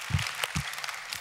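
Church congregation applauding the mothers during a Sunday worship service, heard as a short, fairly quiet patter of clapping with a couple of louder bursts.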